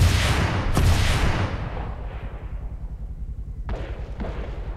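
Gunfire in the Arma 3 military game: one heavy, booming shot up front that rolls off into a long fading echo, then two sharper, quieter shots near the end.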